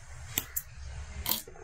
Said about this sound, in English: Just cut my threads out of the way